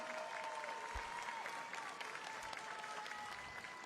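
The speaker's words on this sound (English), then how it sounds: "let's all give a round of applause for the president of the Miss Universe organization, the incredible Paula Sugar." Audience applause at the Miss Universe 2020 preliminary competition, a steady, fairly faint wash of clapping from a large crowd in a hall, with a held musical tone underneath.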